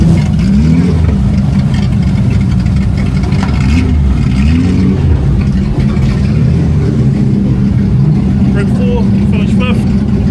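Stockcars race around a wet, greasy dirt track at Woodford Glen in New Zealand, engines roaring and revving continuously with rising and falling pitch as cars pass, loud throughout, with a voice talking over the racing.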